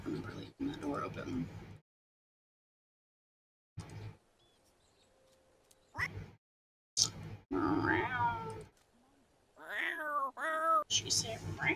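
A cat meowing in The Sims 4 game, with several short mewing calls between stretches of silence, heard alongside a person talking.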